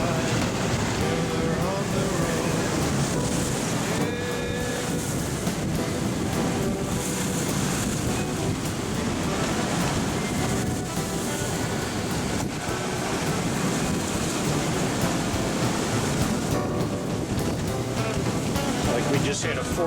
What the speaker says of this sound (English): We just had a 40-knot wind burst right there.